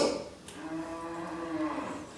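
A cow moos in one long, drawn-out low call lasting most of the moment, moderately close, with no talk over it.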